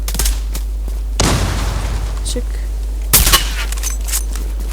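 Sniper rifle fire in the online shooter Zula, with a few loud gunshot bursts standing out over continuous game noise while a voice talks throughout.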